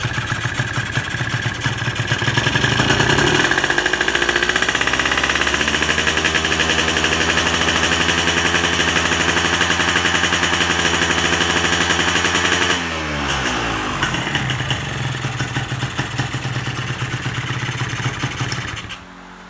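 A carburetor engine revs hard during a pilot jet test, its harsh, loud, rattling note swelling to a sustained high pitch. Near the end the revs drop away before they cut out.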